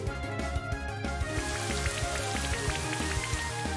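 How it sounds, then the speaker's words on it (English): Rain summoned by Gyarados's Rain Dance in Pokemon Brilliant Diamond: a steady patter of falling rain running beneath loud, rhythmic in-game music throughout. "This Gyarados really has Rain Dance"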